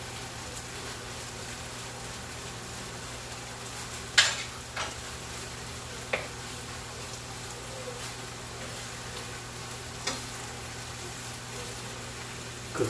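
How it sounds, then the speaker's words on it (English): Enchilada filling stirred in a pan on the stove, a soft steady sizzle underneath with a few sharp scraping clicks from the utensil at irregular intervals; no one speaks. "stirring, stirring."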